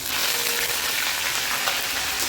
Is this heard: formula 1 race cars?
no